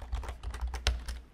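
Rapid keystrokes on a computer keyboard as a command is typed, about eight distinct clicks in an uneven burst, close and clear with no voices.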